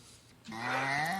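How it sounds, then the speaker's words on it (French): A Limousin cow grazing on grass outside the Metz arena lets out one nearby rising, tonal moo that starts abruptly after a quiet moment and holds steady. "la vache"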